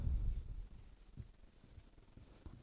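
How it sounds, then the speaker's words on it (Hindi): Handwriting during a maths lesson, faint close scratching and tapping strokes of a pen, irregular short bursts with a few louder soft thumps. "यहां पे लिख दे रहे हैं"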